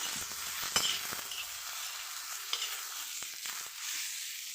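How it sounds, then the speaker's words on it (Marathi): Eggplant being sautéed in a pan for bharit, soft steady sizzling with a few sharp clinks of a spatula scraping and stirring against the metal, close and moderately quiet. "परत याला असं परतून घेणार आहे"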